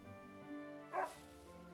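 A dog from the video game Another Code: Recollection gives a single short, bright bark-like yip that rises out of a quiet background with a soft tonal hum.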